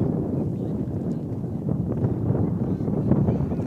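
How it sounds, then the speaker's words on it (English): Strong wind gusts steadily across the open field during a night university soccer match, a constant low rumble and buffeting against the microphone with no talking. "really windy night here in Alumni Field. Just the wind just picked up and never stopped."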